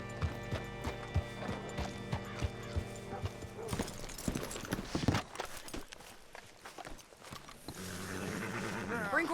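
Horse hooves in Red Dead Redemption 2 clip-clop at a steady walking rhythm, close and clear, then give way to heavier, busier game sounds and a low rumble in the second half.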